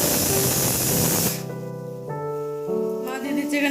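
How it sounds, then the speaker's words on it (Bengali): A pressure cooker cooking cauliflower releases a loud, steady spray of steam for over a second, then gives way to a whistling, tonal hiss that wavers in pitch as it builds toward a whistle. "ও এইদিকে কপিটা সিটি মারার চেষ্টা করছে"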